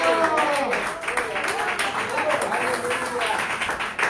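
Steady crowd applause at a church service fills the background while a voice sings or speaks over it, loud and continuous throughout.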